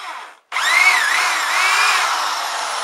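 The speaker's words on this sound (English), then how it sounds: "what I do is I get a wire brush and a drill bit" Electric drill spinning a wire brush to polish a Yamaha Dragstar motorcycle exhaust, a steady close-up high whine after a brief pause, with slight shifts in pitch as the brush presses on the metal.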